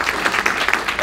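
Audience applause after a speaker's introduction at a French-language talk, a steady dense patter of many hands clapping throughout the short burst, moderately loud and close.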